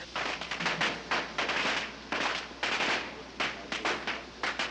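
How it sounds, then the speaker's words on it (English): Firecrackers in a dumpster go off in rapid cracking bursts, popping in quick irregular succession, loud and close, without pause. "Some firecrackers in a dumpster outside have started a fire."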